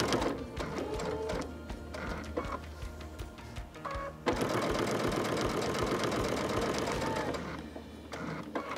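A sewing machine stitches quilt-as-you-go patchwork squares, whirring in short stop-start bursts before settling into a longer, steady, close mechanical run and then slowing again.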